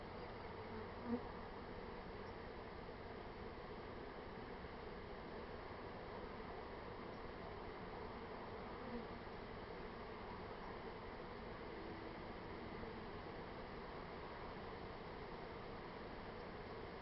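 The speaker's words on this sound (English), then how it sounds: "I don't think this is an unusually large swarm" A honeybee swarm in Columbia, South Carolina buzzes in a continuous, even drone, steady and fairly soft throughout with only a couple of faint knocks.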